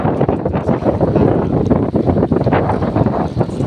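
Loud, continuous wind buffeting the microphone at a baywalk with a deep rumble and rough sea water rushing underneath, steady throughout with no voices.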